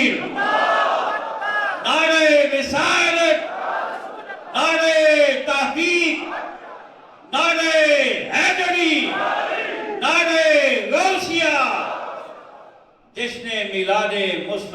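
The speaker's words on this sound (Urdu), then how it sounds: "اور اس کے بعد نعرے لگائیں، نعرے تکبیر" A large crowd at a mawlid gathering chants the Takbir slogan in loud, repeated call-and-response bursts, with voices swelling and breaking in rhythm.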